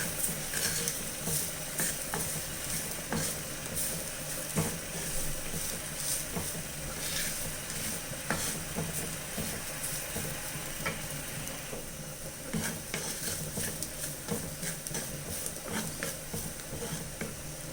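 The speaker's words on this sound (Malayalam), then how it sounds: "ഒരു 2 സ്പൂണ് തേങ്ങ ഇട്ട് കൊടുക്കാം. തേങ്ങയും കൂടെ ഒന്ന് മൂത്ത് വരട്ടെ." Two spoonfuls of grated coconut roasting in a pan for Kerala-style tuna curry, a steady low sizzle with faint scraping stirs running throughout, quiet and continuous.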